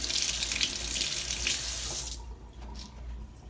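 A kitchen tap runs as cloves are rinsed, water splashing into a sink in a close, steady hiss that cuts off after about two seconds, followed by faint dripping and handling noise.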